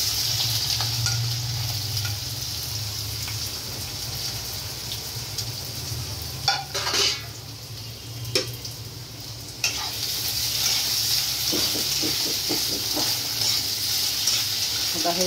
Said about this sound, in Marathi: आता हे चांगले क्रिस्पी होईपर्यंत बटाटे फ्राय करून घ्यायचे.